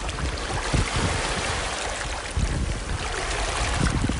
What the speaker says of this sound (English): Ah, the lapping of the waves.